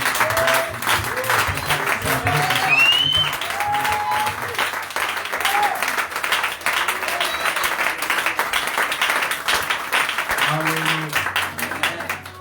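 Congregation applause during an evangelical church service, sustained dense clapping from the gathered worshippers mixed with scattered voices and cheering, continuing steadily for over ten seconds.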